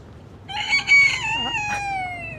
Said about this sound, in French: Le chant du coq que j'adore.